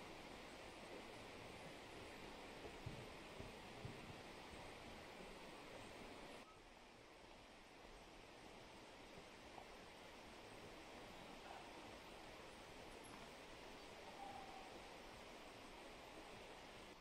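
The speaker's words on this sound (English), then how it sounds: "Creek running by." A creek running through a valley, heard as a steady, faint broadband rush of flowing water with no voices, continuous throughout.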